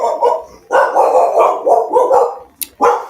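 Several dogs bark loudly and close by in quick, overlapping bursts, with a sharp yip near the end.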